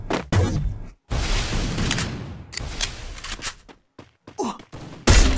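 Gunfire in Garena Free Fire: sharp, loud shots cut in among bursts of rapid firing and quiet gaps, with several separate cracks and a final blast.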